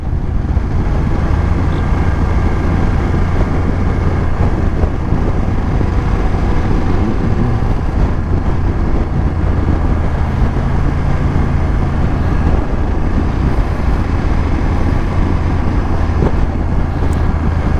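A small van drives over a cobblestone road, a loud continuous low engine drone and road rumble with wind noise throughout, no talk.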